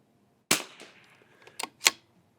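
Gunshots ring out at an outdoor shooting range during chronograph testing: three sharp reports, one then a close pair, each with a short decaying echo.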